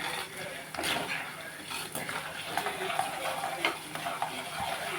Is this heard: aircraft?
no